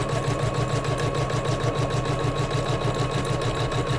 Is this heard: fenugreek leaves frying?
no